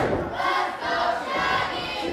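Wrestling crowd at a Future Stars of Wrestling show roars steadily, a dense wash of cheering and shouting voices that stays loud throughout, with a brief dip in the middle.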